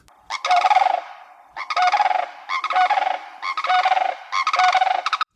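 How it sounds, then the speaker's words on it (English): Loud rattling, trumpeting sandhill crane calls repeated in about five bursts, each with a rolling, gurgling quality, close and clear with no talking. "That's a sandhill crane."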